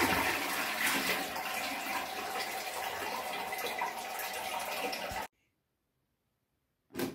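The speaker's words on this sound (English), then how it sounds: "So I'll flush the chain now." A chain-pull toilet flushing during an unblocking attempt with the bowl taped airtight, a loud rushing torrent of water for about five seconds that cuts off abruptly, followed by a brief burst of sound.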